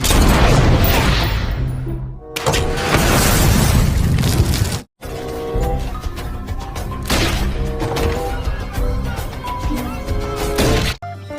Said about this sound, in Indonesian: Tembakan sniper.